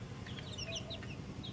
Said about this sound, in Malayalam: കോഴികൾ.